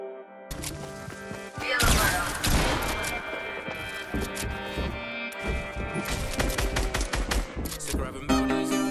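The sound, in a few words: suppressed gunfire in the video game Fortnite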